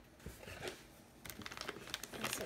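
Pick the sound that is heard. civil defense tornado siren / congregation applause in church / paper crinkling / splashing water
paper crinkling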